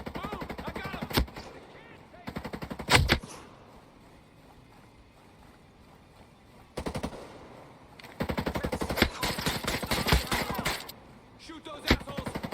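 Automatic gunfire from the tactical shooter Ghost Recon Breakpoint, with loud rattling bursts near the start, around three seconds, and a dense stretch from eight to eleven seconds, separated by quieter game ambience, with someone shouting excitedly over it.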